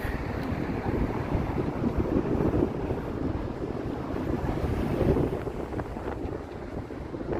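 Strong wind buffets the microphone in a constant low roar on a walk in Toronto, with no voices and a faint watery wash in the background.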